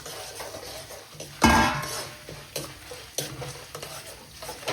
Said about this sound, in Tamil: எல்லாத்தையும் நாங்கள் இப்போ லைட்டாக மெல்லிய நெருப்பில் பொரிச்செடுக்க வேணும்